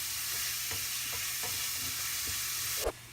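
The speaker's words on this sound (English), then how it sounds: "I'm just gonna cook the onion until it turns translucent." Onion sizzles and fries steadily in a pan, with a constant hiss and a few soft stirring scrapes, ending in a brief clatter.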